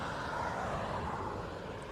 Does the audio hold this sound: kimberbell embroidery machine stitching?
no